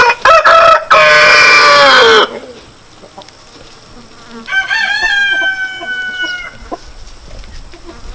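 A rooster crows loudly and close by at an animal rescue, then a second, softer crow follows a few seconds later, with faint insect buzzing in between.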